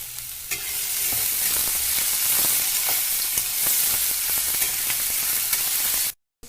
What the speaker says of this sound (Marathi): कांदा आता आपल्याला थोडासा फ्राय करून घ्यायचा आहे